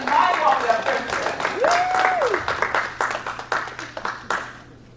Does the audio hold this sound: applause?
yes